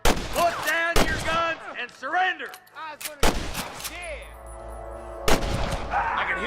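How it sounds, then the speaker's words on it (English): Gunshots in the Western video game Red Dead Redemption: a rapid series of sharp, loud cracks, some clustered in quick bursts, separated by pauses and mixed with game sounds and spoken dialogue. "can hear more gunshots"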